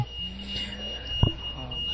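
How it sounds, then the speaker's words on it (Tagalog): A smoke detector fire alarm sounds at a junior fire marshal safety camp as a thin, steady high-pitched tone over a low room hum, with a brief thump partway through. "another alarm sa safety, which is the fire alarm, the smoke detector"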